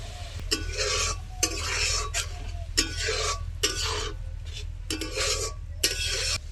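Masala with chili powder and yogurt being stirred and sautéed in a pan for cauliflower biryani, with repeated scraping strokes of a spoon in bursts over a low hiss, close up and without talk.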